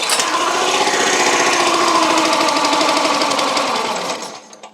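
A salvaged Tractor Supply wood splitter's small engine, fitted with a new carburetor and choked, cranks and sputters in a loud, buzzing rattle for several seconds before winding down without catching.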